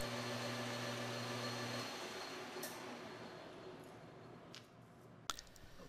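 A lathe parting tool cuts steel under steady power feed: a tonal machine hum gives way to a continuous broadband grinding hiss, close and even, ending in a sharp click.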